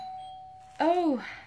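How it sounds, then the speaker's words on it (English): A doorbell at home gives a single bright ding-dong chime, fairly near, after a faint steady tone, and a person lets out a short exclamation over it. "That was my doorbell."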